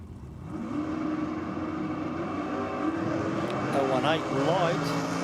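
Drag racing cars at Sydney Dragway during an evening session of a state championship round, a steady distant engine drone building toward the end with a track announcer talking over it.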